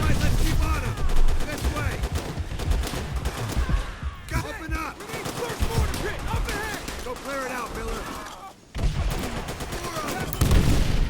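Rapid machine gun fire and gunshots from the World War II shooter game Call of Duty: World at War rattle in dense bursts, with excited voices talking over the constant battle noise.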